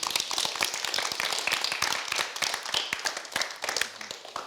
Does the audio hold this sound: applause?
yes